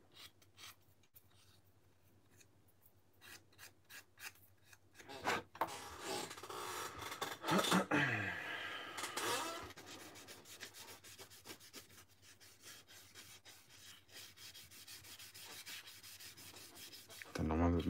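Sandpaper of 1000 grit rubbing over a plastic part of a 1/48 Hobby Boss A-10 Thunderbolt II model, close and fairly loud, a dense scratchy rasping that builds in the middle and keeps going in long strokes.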